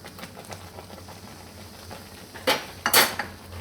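Spoon or spatula scraping and clinking against a metal pan while adadiya mixture is stirred with a little milk over a low gas flame, quiet soft scrapes building to a few louder clanks near the end.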